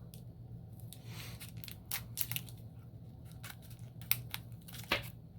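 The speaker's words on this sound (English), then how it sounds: "let's just cut these open" Scissors snip open small packets of ink samples in a quiet room, a run of short, crisp cuts and plastic crinkles that come in uneven bursts, close up and fairly faint.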